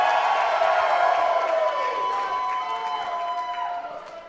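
Sold-out capacity crowd at a Renegade Wrestling Alliance show cheering and whooping, a loud roar of many voices with rising yells that fades slightly toward the end.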